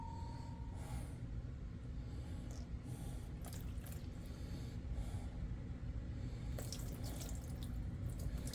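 Tap water runs for a second wash of a 1949 Donald Duck comic cover during paper conservation, a continuous close splashing flow with faint drips and a low rumble.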